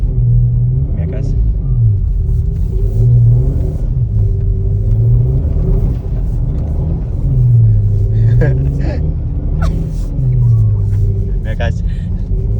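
An Audi RS4 B9 engine drones and rises in repeated revving surges while pulling a truck out of snow, loud deep rumbling up close with people talking over it.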